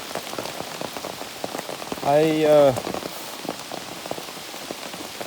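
Steady rain patters on a forest trail and gear along the Appalachian Trail, a dense continuous patter close by, briefly overlaid by a single spoken word.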